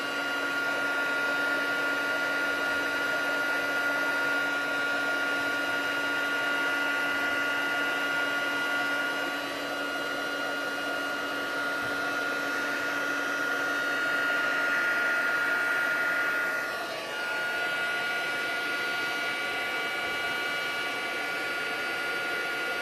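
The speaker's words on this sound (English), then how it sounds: "Now just give it a couple of seconds to heat that heat gun." A heat gun warms embossing powder on a papercraft butterfly, giving a steady, loud, close whirring blow that runs unbroken for over twenty seconds with no talking.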